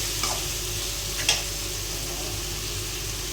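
Chicken pieces frying on low heat with salt, chili and turmeric, a steady close hiss of sizzling oil with a couple of brief utensil ticks.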